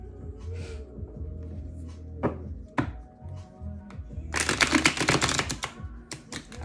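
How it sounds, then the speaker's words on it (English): Oracle cards being shuffled by hand, a few soft taps and thunks, then a dense burst of rapid riffling card flicks, followed by a couple more short shuffles close by. "One more shuffle."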